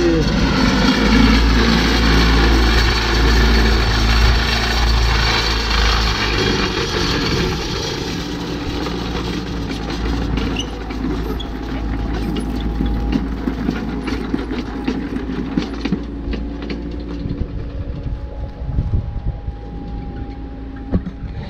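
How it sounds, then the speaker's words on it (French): Hammer flail mower running in a vineyard, a loud, steady low-pitched mechanical drone with a constant rumble and whine, continuous and close, no talk over it. "c'est un broyeur à marteau"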